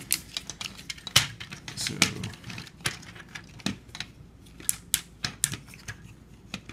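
Plastic parts of a Transformers Combiner Wars Ultra Magnus toy being folded, giving sharp clicks and ratcheting snaps at irregular intervals, close and fairly quiet, with a brief spoken word.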